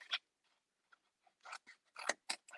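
Scissors trim the inside flaps of a paper box in crisp, close snips, a few sparse cuts followed by a quicker cluster, in an otherwise quiet room.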